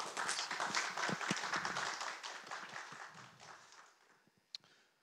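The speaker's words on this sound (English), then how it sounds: "Another hand of applause for our reverse engineers." A conference audience claps for the reverse-engineering presenters, a brief round of applause that fades out over a few seconds, ending with a single sharp tap.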